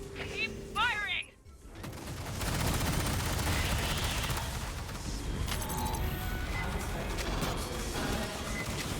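Sustained automatic gunfire in the Aliens Fireteam video game, a loud continuous barrage after a brief opening with game chatter, dense and close with crashing impacts.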